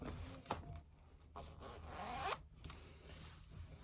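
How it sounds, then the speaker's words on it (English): A zipper pulled up on a compression garment that reaches the under bust, heard as quiet close scratchy zipping strokes with a couple of sharper tugs. "So now that I've got it all the way up, I'm going to go ahead and zip it."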